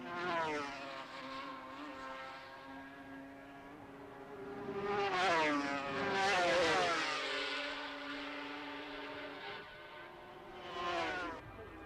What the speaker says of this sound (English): Barry Sheen is catching up all the time on this brand new Suzuki of his.